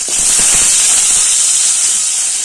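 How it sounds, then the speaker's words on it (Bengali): Cauliflower pieces frying in hot oil in a wok for a Bengali fish curry, a loud continuous hiss and sizzle with dense crackling, close and steady throughout. "এই তেলে ফুলকপিটা ভেজে নেব"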